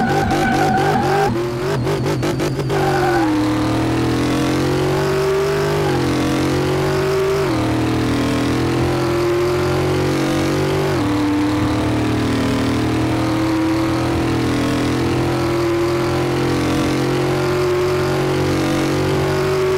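Car engine restarting in Car Mechanic Simulator 2018: a rapid burst of cranking clicks, then the engine catches and settles into a loud, steady running hum with periodic rev swells throughout.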